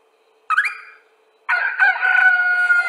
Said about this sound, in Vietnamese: Đấy, gà trống gà gáy nhé.